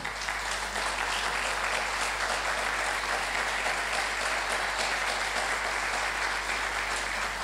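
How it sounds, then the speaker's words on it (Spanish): A church congregation applauds for the King, a dense steady wash of many hands clapping that holds evenly throughout, with a low constant hum underneath. "Denle una ofrenda de aplauso al Rey"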